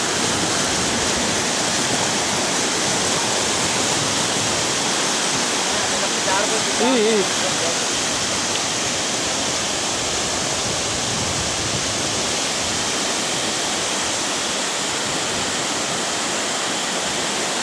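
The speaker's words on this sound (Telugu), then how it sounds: "చూడండి ఫ్రెండ్స్, జలపాతం, సరియు జలపాతం" A waterfall near Vizag tumbles over rocks with a loud, constant roar, and a voice briefly speaks over it midway.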